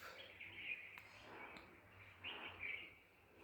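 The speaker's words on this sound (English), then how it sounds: "Birds chirp, twitter, sing, and produce different cries" Faint birds chirp and tweet in a quiet natural setting, a few short high calls scattered over a soft background hush.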